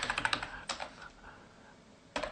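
Typing on a computer keyboard, a quick close burst of clicking keystrokes, a pause with a couple of lighter taps, then another keystroke at the end, fairly quiet in a still room.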